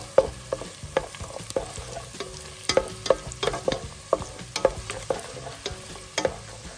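Speck frying in a pan for carbonara, with repeated stirring and scraping strokes over a steady close sizzle, several sharp clinks of a utensil against the pan.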